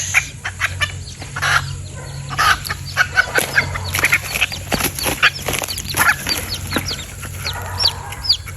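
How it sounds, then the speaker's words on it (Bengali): A Malaysian jungle fowl hen clucks loudly and repeatedly up close in a burst of rapid clucks, with other fowl calls and some rustling around her. "মুরগি ধরো"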